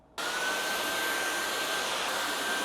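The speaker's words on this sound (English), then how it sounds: "Now I'm going to vacuum the floors." A vacuum cleaner switches on abruptly and runs loud and steady with a constant high whine while floors are vacuumed, close and alone without speech.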